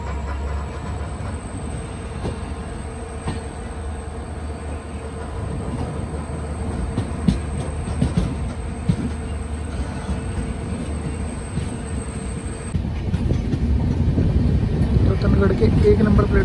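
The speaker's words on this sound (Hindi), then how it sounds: "रतनगढ़ के 1 नंबर प्लेटफॉर्म पर अराइविंग करते हुए बाड़मेर सुपरफास्ट एक्सप्रेस" The Barmer Superfast Express 12323 rumbles along the rails at a steady pace on its approach to Ratangarh, with wheel clatter and wind noise rising toward the end and a faint whine fading out partway through.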